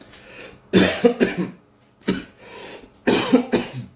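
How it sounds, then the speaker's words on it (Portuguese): Three bursts of harsh, close coughing, each a quick pair or cluster of coughs separated by short pauses. "A tosse tá aí"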